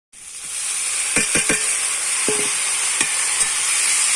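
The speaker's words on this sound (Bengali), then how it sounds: "এবার আমি মোচাটা দিয়ে দেব" Banana flower drops into a hot pan already seasoned with turmeric and chili, setting off a sudden bright, steady hiss of frying with a few clinks and crackles on top.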